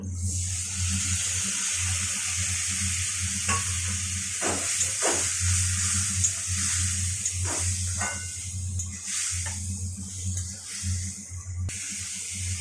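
Watery mix of salt, turmeric and ground spices poured into a pan of fish, potato and ridge gourd curry, giving a steady hiss and bubbling with a low hum underneath and a few soft clinks.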